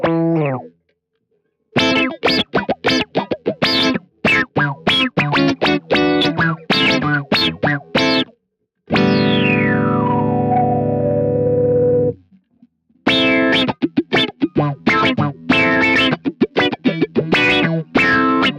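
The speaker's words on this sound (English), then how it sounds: "Alright, so that filter, it gives that wah effect," Picked electric guitar notes pass through an auto-wah filter effect in quick, choppy bursts. A long sustained chord in the middle sweeps smoothly downward, then rapid filtered notes resume, all loud and close.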